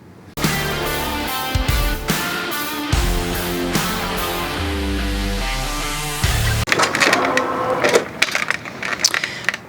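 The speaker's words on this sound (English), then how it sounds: "We're going to go back to the machine and it's going to do the outline of these Band-Aids." An embroidery machine stitches the outline of Band-Aid designs, running loudly and continuously with a steady mechanical chatter of needle strokes and some sharper clicks near the end.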